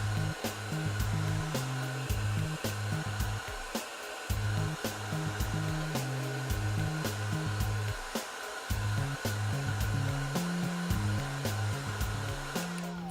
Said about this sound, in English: when we blow dry this section of the hair, we really want to over direct and elevate